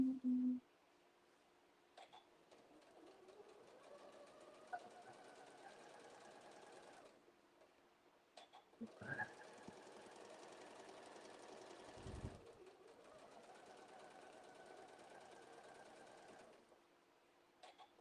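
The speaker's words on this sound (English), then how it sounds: "Nice to see it stitching well after I've changed the bobbin." A domestic sewing machine stitching with a freshly changed bobbin, running in steady bursts with short pauses between runs of stitches, close and clear with no talking.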